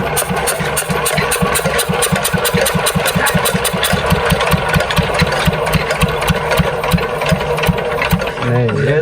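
A farm engine being hand-cranked to start in a rural field setting, chugging in a steady, rapid rhythmic putter close by, with voices talking over it and the beat faltering near the end.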